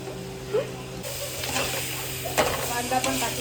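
Chopped onion tipped onto chicken in a home kitchen pan, giving a soft, scattered sizzle and the scrape and clatter of a stirring spoon against the metal, close by and steady.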